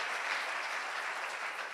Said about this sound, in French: acclamez Dieu pour vous-même